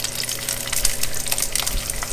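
Peppers dropped into a hot pan for pan-roasting, giving a steady broad sizzle with bursts of crackle throughout, fairly loud and close with no talking.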